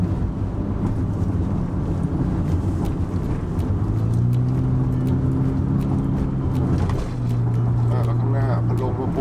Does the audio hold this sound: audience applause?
no